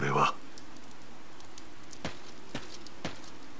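Steady rain falls in Fire Emblem Three Houses, a soft continuous hiss with a few sharper drops or ticks, after a brief burst of another sound at the start.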